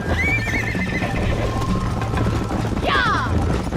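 Horse galloping during a race in Red Dead Redemption, steady hoofbeats and tack rattle under a whistling wind, with a loud close neigh near the end.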